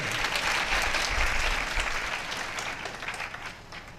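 A crowd at a Ram Katha religious discourse applauds steadily, dense clapping that stays moderately loud and slowly fades toward the end.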